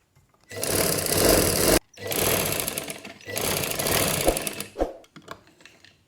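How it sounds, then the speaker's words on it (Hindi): Sewing machine stitching the neckline of a kameez laid inside out, running in three loud sustained bursts separated by short pauses, then slowing to a few brief stitches and trailing off. "फिर इधर से ऐसे सिलाई लगाएंगे।"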